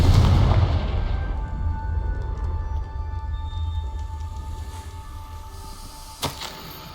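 A Confringo fire spell blasts in Hogwarts Legacy: a loud, deep booming burst that rolls away into a long low rumble, followed by a few faint crackles and one sharp late crack.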